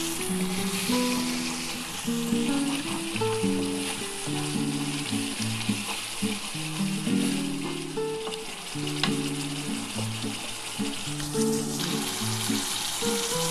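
Red chilli masala sizzles steadily in a pan for a Bengali mustard curry of parshe fish, stirred with repeated scraping over continuous close frying hiss, with a music bed running underneath.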